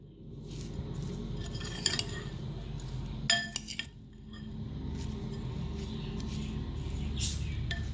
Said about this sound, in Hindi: इसे अच्छे से मैं मिक्स कर लूँगी पहले।